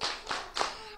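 Children clapping hands in rhythm during a kindergarten stage performance, three quick close claps spaced evenly across a second, fairly soft.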